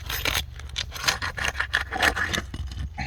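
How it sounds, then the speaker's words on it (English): Prying and scraping at brittle roof shingles with a roofing hammer and nail puller to break their seals, a steady run of close, gritty rubs and scrapes with short bursts and no talking. "I'm gonna start by breaking these seals so I can get to our nails."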